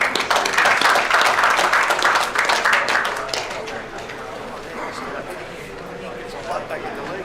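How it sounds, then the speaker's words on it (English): An audience claps and applauds at the close of an evening gun law information session, a dense, loud burst of applause that tapers off into quieter scattered claps and room noise. "a round of applause for our speakers tonight"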